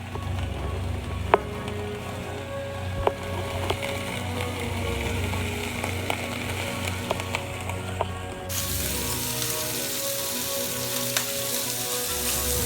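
Lightly spiced chicken sizzles and fries in a hot cast iron skillet, a steady close crackle with scattered sharper pops and occasional utensil clicks, growing denser and louder partway through.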